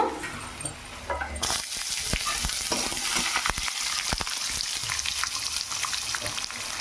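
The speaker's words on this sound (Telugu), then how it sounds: "ఒక ఐదారు జీడిపప్పు కూడా వేస్తున్నాను బాగా ఏపుకుందాం" A handful of cashews sizzle and crackle in hot oil in a pan for semiya upma, with a bright, steady frying hiss after a brief quieter start and scattered pops and stirring clicks, close and alone.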